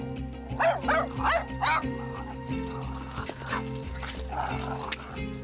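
Small dogs of poodle and Maltese breeds barking in a home, with a burst of sharp, repeated yaps near the start and scattered barks and whimpers after, heard over a steady background hum.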